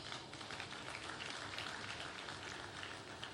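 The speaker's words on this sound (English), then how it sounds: "I believe Mr. President deserves a round of applause." An audience at an economic and investment summit gives a round of applause, a faint, even patter of many hands clapping continuously from a distance.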